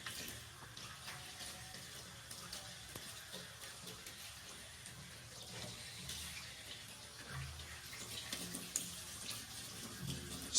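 Hands and wrists rinsed under a running tap, a steady wash of water flowing close by without pause, with no talking.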